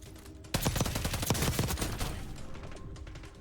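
Enemy fire in Call of Duty Warzone erupts suddenly as a loud, fast automatic burst of closely spaced shots, then trails off into echoing, fading reports.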